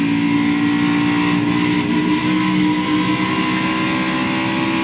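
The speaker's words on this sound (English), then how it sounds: "He's got to lift up out of the throttle a little bit." NASCAR stock car engine at the 2002 UAW-DaimlerChrysler 400 holding a loud, steady roar as the driver eases off the throttle, with dense harmonic drone and broadband race noise throughout.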